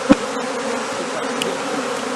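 A honey bee swarm buzzes loudly and continuously close by, with a dense steady drone and a few individual bees passing nearer.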